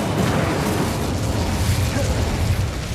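Incendio fire spell cast in the video game Hogwarts Legacy: a dense, sustained whooshing burst of flame with a continuous roar and a heavy low rumble, loud and steady for a few seconds with no voices.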